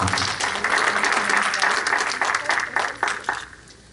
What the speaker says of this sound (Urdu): جناب آپ کی تالیوں کے ساتھ